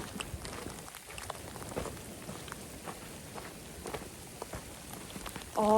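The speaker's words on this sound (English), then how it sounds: "It's pouring." Heavy rain pouring down outdoors on a backpacking trail, a steady patter of drops striking surfaces with scattered heavier splats, fairly quiet and continuous throughout.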